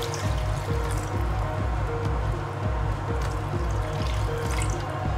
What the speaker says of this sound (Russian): Добавляю еще водички.